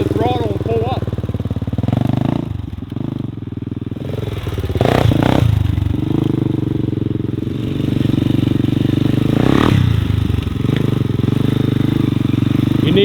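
Arctic Cat snowmobile engine running steadily with a low, rumbling drone that swells with throttle blips, loud and close, while people talk over it.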